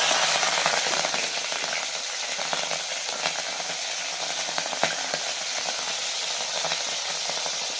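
Hot oil sizzles and crackles steadily close by, with scattered sharp pops from tempering spices hitting the pan while cooking a radish curry, and no talking.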